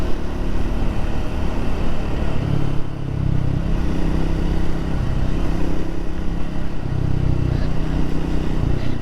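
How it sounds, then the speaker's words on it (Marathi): A motorbike rides through traffic with a continuous loud engine drone and wind rush, and vehicle sounds surround it; no distinct horn blasts stand out clearly. "मी गाडी चालवते, पाठीमागनं गाड्यांच्या हॉर्न इतका आवाज आहे"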